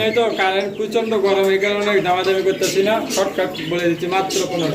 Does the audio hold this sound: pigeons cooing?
yes